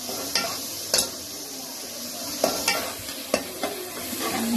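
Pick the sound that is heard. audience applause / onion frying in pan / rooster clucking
onion frying in pan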